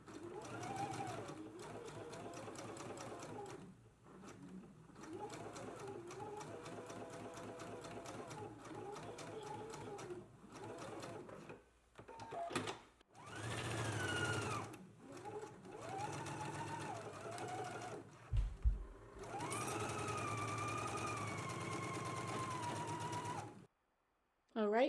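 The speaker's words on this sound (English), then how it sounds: "we're going to fold the sleeve in half and we're going to stitch down the sleeve seam" Domestic sewing machine stitching down a sleeve seam on a garment, a steady whirring motor run in several bursts with short pauses between, fairly quiet and close, with a voice talking at points.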